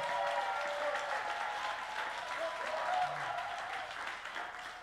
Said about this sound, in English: But you will applaud and clap